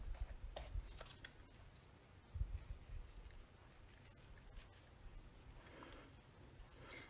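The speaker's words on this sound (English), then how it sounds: "it's really not taking me that long to cut" Scissors cut through card stock in a crafting session. The snips are quiet and irregular, with scattered clicks and rustling paper close by over a faint background.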